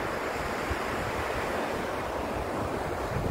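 Ocean waves wash in a continuous broad roar of surf, steady and fairly close, with wind noise across the microphone and no voices.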